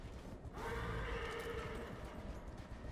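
A horse in the video game Darksiders Genesis lets out one clear neigh lasting about a second, over steady game background noise and faint hoof clatter.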